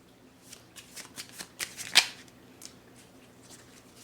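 A deck of tarot cards is shuffled close by, with quick riffling flutters in a steady series that peak in one sharp snap midway and then taper into softer shuffles, with no voice.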